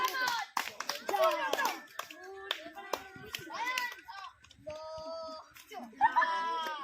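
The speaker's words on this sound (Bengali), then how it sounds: "তোমরা হাততালি মারো, তোমরা হাততালি দাও শুধু" Children clap their hands during a head-cup challenge game, the uneven clapping mixed with excited shouting and chatter from the kids throughout.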